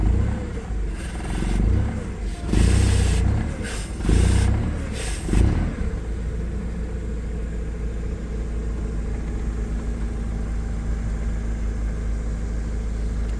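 A Cesab M315G gas-powered compact forklift engine, Toyota 02-8FGF15 type, running close by: several uneven revving surges in the first seconds, then a steady idle that carries on alone.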